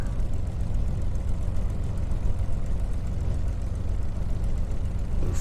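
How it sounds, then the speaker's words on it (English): Merlin aero engine idling in a flight simulator game, a steady deep rumbling drone at constant loudness throughout, with no talk over it. "listen to that Merlin engine purr"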